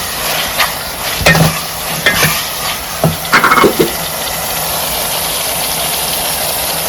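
Raw prawns and okra stirred in a curry pan, with several scraping clatters of a spoon and intermittent knocks over a steady sizzle and hum.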